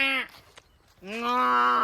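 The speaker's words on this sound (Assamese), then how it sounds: "গৰু আহিছে আমাৰ তাত দেখিছে পিকনিক খাবলৈ।" A cow moos twice, close and loud, with a brief pause between the long, low calls, at an outdoor picnic spot.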